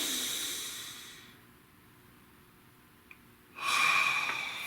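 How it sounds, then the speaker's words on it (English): A single deep breath, a slow hissing inhale, then quiet, then a louder airy exhale, close to the mic and alone without talk. "Breathe."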